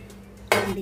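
Fried urad dal vadas for curd vada are dropped into a bowl of water, giving one sudden loud splash-clatter after a quiet moment, trailing off over a second.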